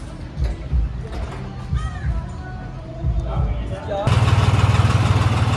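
Voices talk over faint background rumble, then a tractor engine idles loudly nearby with a steady, throbbing chug.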